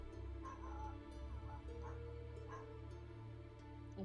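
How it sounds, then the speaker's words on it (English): A dog barks a few times, the barks faint and somewhat distant over a steady low hum, spaced irregularly through the stretch. "my dog likes to bark at literally anything"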